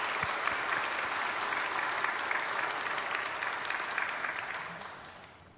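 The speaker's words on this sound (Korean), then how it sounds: "주님께는 영광이고 저들 모두 수고하셨다고 박수로 다시 한번." A church congregation applauds during a Sunday worship service, sustained dense clapping that stays steady and full before tapering off toward the end.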